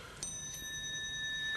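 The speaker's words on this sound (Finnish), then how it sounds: "Ovikello." A doorbell rings in a 1987 Finnish radio drama, a quiet, sustained chime of clear bright tones held over a faint, hushed background.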